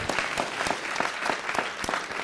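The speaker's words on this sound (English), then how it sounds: "Give me a round of applause." Audience applause in a city council meeting, brief dense clapping from a room of people heard alone at a moderate level.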